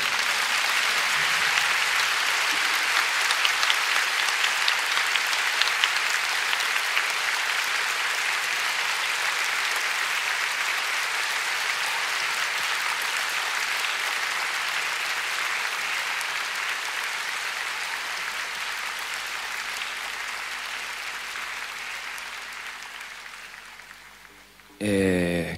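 An audience in a large concert hall gives long, dense applause at a live rock show, a steady wash of clapping that holds for about twenty seconds before it fades out near the end.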